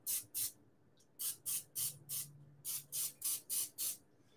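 Cooking oil spray hits a cupcake pan for spicy strawberry cupcakes in about eleven short, sharp hissing bursts. The bursts come in quick, fairly even rhythm, loud and close, with only faint room noise between them.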